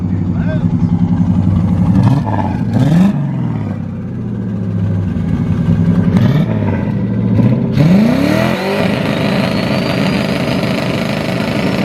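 A damaged car engine, a Crown Victoria or Caravan due for a rebuild, revs loudly in repeated rising and falling bursts over a rough idle, close to the microphone with some talk mixed in.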